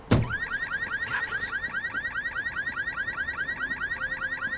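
A car alarm blares close by in a repeating, rapid warbling whoop, the cycles pulsing evenly after a sharp thump at the start, with no speech over it.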